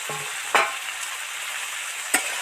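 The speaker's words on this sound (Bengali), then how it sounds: "পাঁচ মিনিট ধরে ধরে নাড়তে থাকবো আলুগুলো যাতে সুন্দর করে ভাজা হয়" Cut potatoes sizzle in a pan with fried ginger for a snake gourd dopiaza, the steady frying broken by two sharp stirring scrapes of a spatula.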